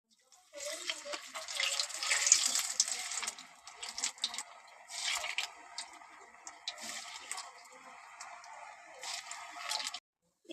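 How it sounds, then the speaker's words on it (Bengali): Pitha rice cakes fry in hot oil, giving a soft, continuous high sizzle that swells and fades in bursts, fairly quiet and close with no talk over it. "এখান থেকে আমি নিয়ে এবার এই তেলে ভাজবো"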